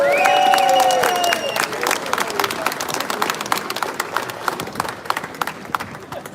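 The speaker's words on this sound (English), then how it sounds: "Give him a cool applause." A crowd at a free speech rally outside the Custom House in Dublin claps and cheers for a speaker being introduced, a scattered outdoor applause over a lingering voice at the start, loose and uneven as it thins out.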